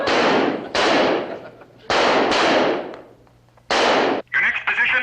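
Rifles fire on a shooting range with men in standing position, each loud cracking shot followed by a long rolling echo; several shots land in irregular succession, with faint voices just after the last.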